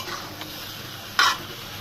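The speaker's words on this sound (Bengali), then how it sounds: "এখন মাংসটা ভালোভাবে কষিয়ে নিব" Chicken meat stir-fried with spices gives a soft, even sizzle in a pan, with one sharp clink of a utensil partway through; brief, close, and without speech.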